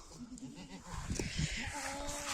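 Goats bleat at close range on a small farm, with a few short wavering calls, one of them drawn out, rising over quiet background.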